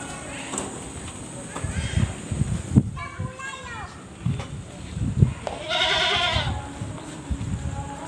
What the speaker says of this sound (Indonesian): Itu kambing lor, kambing kendit.